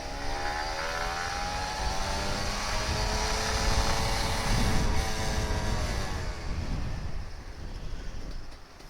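A Kawasaki Ninja RR 150 two-stroke motorcycle engine revs gently and steadily from the rider's position, rising in pitch with a whining drone under road and wind rush, then easing off toward the end.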